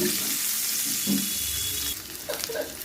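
Eggs fry in a kadai with a continuous close crackle, which thins out near the end as other faint kitchen noises take over.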